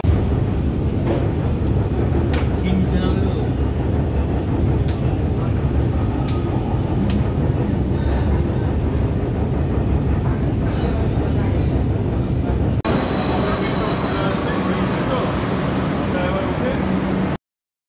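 A loud, continuous rumble and roar of a Kolkata metro train running underground, with faint voices beneath it and the tone brightening near the end.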